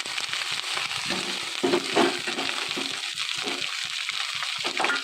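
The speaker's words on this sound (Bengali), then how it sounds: "এবার নাড়তে থাকবো, একটু ভেজে নেবো এগুলোকে" Garlic, capsicum and chopped cheese stir-frying in a pan, a continuous dense sizzle with soft scraping and rustling as the mixture is moved, steady and close, no voices.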